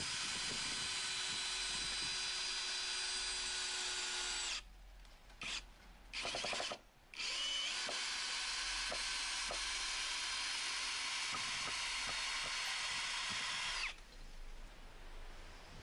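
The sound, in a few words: Ferrex Pro 40v brushless cordless combi drill driving screws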